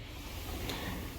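A sliding door in a luxury Marbella penthouse apartment glides along its track, producing a soft, brief rumbling scrape close by against steady room noise.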